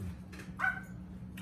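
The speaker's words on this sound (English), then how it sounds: "Them dogs, man." Dogs on a farm bark and yip in short bursts during a Thanksgiving gathering, a couple of brief calls over steady low background hum.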